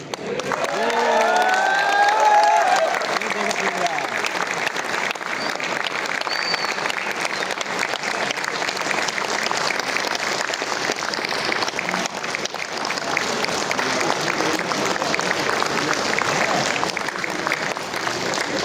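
A crowd bursts into sustained applause at the inauguration of Kartavya Bhawan in New Delhi, loud and dense clapping that holds steady for the whole stretch, with a brief cheer early on.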